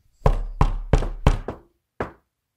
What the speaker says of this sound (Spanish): Tocó la puerta suavemente.